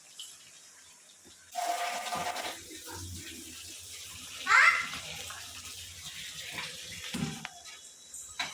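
Water is poured from a filter into a pot while making dough for puris, a sustained running and splashing sound with louder bursts, heard close up against quiet room background.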